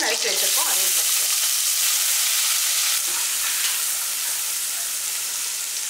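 Loud, close sizzling as chopped onion hits hot oil in a pan, a bright crackling hiss that stays constant throughout with light stirring.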